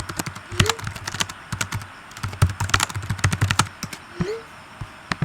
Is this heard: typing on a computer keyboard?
yes